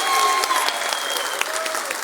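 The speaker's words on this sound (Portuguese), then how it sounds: "Palmas para a Andréia" Audience applause at a regional women's spine health and scoliosis seminar, brisk steady clapping from a room of people, with faint voices mixed in.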